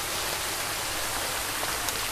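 Steady rain in a Thai outdoor setting, a dense, even hiss that fills the whole clip without pause, with faint scattered drops over a low rumble and no voices.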